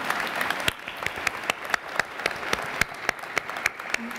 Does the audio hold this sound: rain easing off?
no